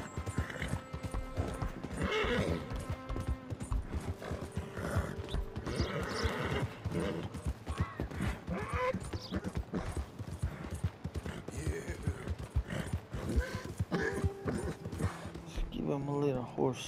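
Horse hooves clip-clop steadily while riding in Red Dead Redemption 2, with whinnies and neighs breaking through, all under someone talking over the game's dense background sound.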